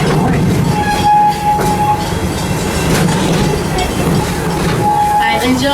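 Busch Gardens Tampa Bay park train rolling toward Stanleyville station, a steady rumble of wheels and cars with a sustained horn-like tone, loud and close throughout, with voices mixed faintly in the background.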